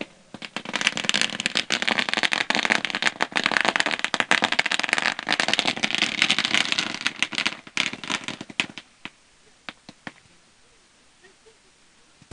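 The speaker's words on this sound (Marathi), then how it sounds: "फटाक्यांच्या आतषबाजीमध्ये पाहुण्यांचं या ठिकाणी आगमन" Rapid crackling bursts of firecrackers set off to welcome guests at a village cricket tournament, a dense loud barrage for about eight seconds that thins into scattered pops.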